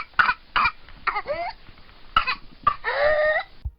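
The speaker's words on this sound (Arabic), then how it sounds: "في هذه الحالة يسعل المريض بشكل متواصل ويكون ذلك متبوعاً بشهيق" Whooping cough: a series of harsh, rapid coughs in bursts, each run ending in a long, strained, high-pitched whooping inhalation, heard twice, close and loud.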